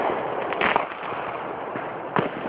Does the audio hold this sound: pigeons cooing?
no